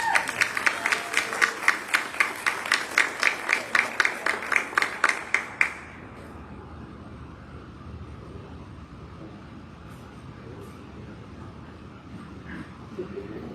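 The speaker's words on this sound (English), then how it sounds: "Big round of applause for Teacher of the Year" At a school district board meeting, the audience claps for a Teacher of the Year honoree: loud, evenly paced hand claps in a steady rhythm for about six seconds, then they stop abruptly, leaving a quiet room hum.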